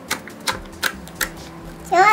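Store-bought green slime stretched by hand, giving a few sharp, separate clicks roughly every third of a second, then a denser crackling burst at the end; close up, with no talking.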